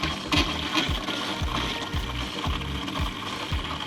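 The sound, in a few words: RV water pump sucking in pink antifreeze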